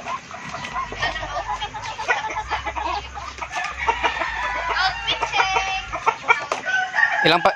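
Several chickens and ducks cluck, squawk and quack continuously on a farm, close by, with a busy overlapping chatter of fowl calls and a low background hum.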